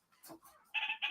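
Pet bird in a room giving two short, harsh squawks in quick succession after a few fainter chirpy sounds, close and fairly quiet.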